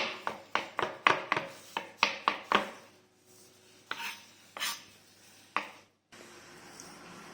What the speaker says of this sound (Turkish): Böyle incecik doğrayalım.